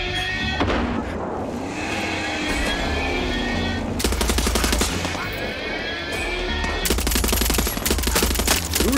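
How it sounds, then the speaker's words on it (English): Gunfire in the Far Cry 6 video game, two long bursts of loud automatic fire with scattered shots and whooshing game effects between them. "They're just shooting."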